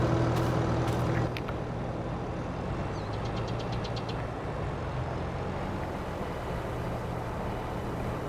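Tractor engine running in Farming Simulator 22, a steady low idling rumble with a knocking character, preceded by brief mechanical clatter and a short series of clicks.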